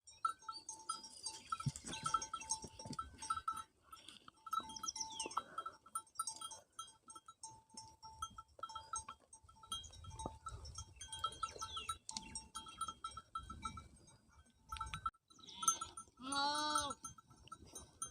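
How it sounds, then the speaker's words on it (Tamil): Chembari goats on a farm bleating in scattered, overlapping calls, some near and loud, others fainter, with quiet gaps and light rustling between them. "பாப்பாவோட ஆடு தாங்க இது பூரா."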